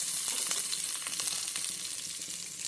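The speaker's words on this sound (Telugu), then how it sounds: "దీంట్లోనే ఆనియన్స్ వేసేయండి, క్యాప్సికమ్ వేసేయండి" Onions and capsicum fry in about two spoons of hot oil in a pan, a steady close sizzle with soft crackles running throughout, no voices.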